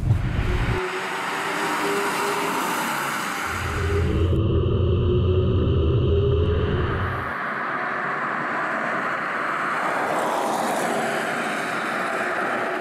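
A Soviet VAZ car with a rotary engine accelerates up through the gears. A steady engine rumble swells, drops away at a shift, then climbs again, heard from inside the car.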